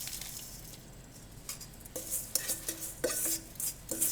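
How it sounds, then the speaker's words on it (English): Gingersnap crumb crust dumped into a springform pan and spread around, soft gritty pattering and scraping with a few light metallic clinks of a utensil against the pan, quiet and close. "in the bottom of your springform pan, we're just going to dump it in here"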